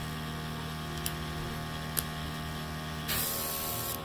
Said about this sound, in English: Spraying pretty easily now.